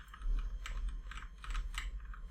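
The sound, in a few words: typing on Razer Blackwidow Chroma Stealth mechanical keyboard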